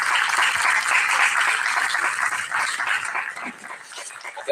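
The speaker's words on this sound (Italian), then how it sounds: "Un applauso anche per lei." An audience at a cultural talk in Italy gives a round of applause, steady dense clapping that holds through and thins toward the end.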